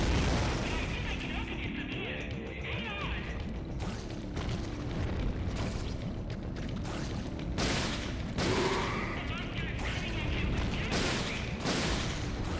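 Dense gunfire bursts and booming shots from Resident Evil: Dead Aim, switching toward a Magnum, fire continuously and loudly throughout, rapid repeated reports stacked over a constant rumble with a voice talking underneath.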